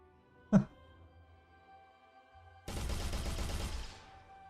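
A first-person shooter gun under development fires a single sharp shot, then a few seconds later a dense rattling burst that sprays many small projectiles before tapering off.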